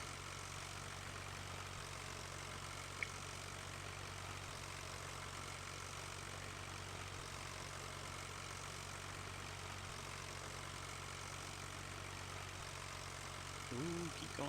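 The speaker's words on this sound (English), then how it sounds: "Ooh, keep going, tractor." A tractor engine in the Farming Simulator 15 video game idles steadily at low volume, a constant, unbroken hum for the whole stretch.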